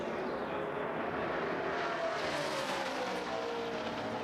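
NASCAR stock cars race at Talladega in the 2011 Aaron's 312, engines roaring as a dense pack drafts past, a steady loud drone that swells and shifts in pitch as cars sweep by.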